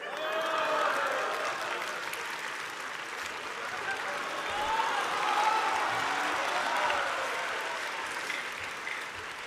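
Audience applause at a live Chinese crosstalk comedy theater show, sustained broad clapping from a large crowd lasting several seconds, with faint voices mixed in.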